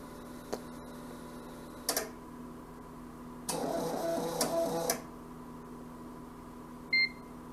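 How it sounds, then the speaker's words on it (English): A DEC Rainbow computer powering up gives one short electronic beep near the end, faint, after scattered clicks and a brief burst of mechanical whirring from the machine in a quiet room. "Okay, it beeped"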